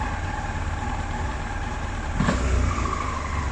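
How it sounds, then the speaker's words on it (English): Yamaha R1 5JJ motorcycle engine with carburettors and a slight lean spot, running steadily near the mic, then swelling briefly as the throttle is gently feathered partway through. "We gently feather the throttle."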